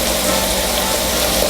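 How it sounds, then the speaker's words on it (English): Sausage sizzles in a frying pan as its cooking water boils off, a dense, close, continuous crackling hiss that stays loud and even throughout, with no voices. "you can hear the sausage now as the water evaporates"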